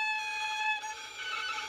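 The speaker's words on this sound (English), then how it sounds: "if you're not quite on target, it'll sound like this." A violin harmonic bowed slightly off target, giving a thin, squeaky, wavering high tone that holds briefly then breaks into a scratchier shimmer, faint and solo.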